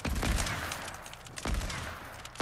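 Two bursts of rapid gunfire in the video game Fortnite, loud and close, separated by a short pause.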